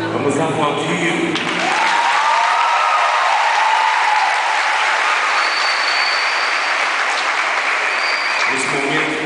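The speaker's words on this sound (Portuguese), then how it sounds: "Vamos aplaudir." A crowd in a sports gymnasium breaks into loud, sustained applause during a youth religious gathering as a cross is carried in, with voices and cheers mixed into the dense clapping that fills most of the stretch.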